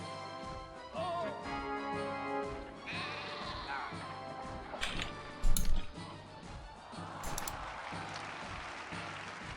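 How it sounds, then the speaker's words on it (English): Sheep in the city-building game Caesar 3 bleat a few times against steady game background music, joined by a brief clatter of game effects in the middle. "Sheep."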